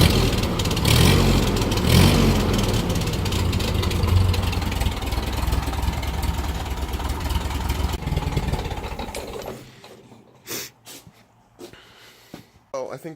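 A warmed-up Ford 2N tractor engine idles steadily and close for about nine seconds, then cuts out, leaving quieter sounds and brief bursts that may be a voice.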